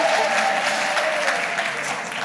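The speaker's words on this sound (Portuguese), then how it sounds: "Uma salva de palmas!" An audience claps in a loud, even burst of applause that fades slightly toward the end.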